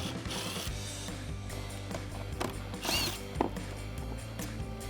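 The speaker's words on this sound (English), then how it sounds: "using that 10 millimeter socket, I'm just going to remove the 2 bolts on top" Ratchet fitted with a 10 mm socket backing out the top rear bumper bolts on a Jeep Gladiator JT, steady close ratcheting clicks over a constant low background hum, with a couple of louder clanks near the end.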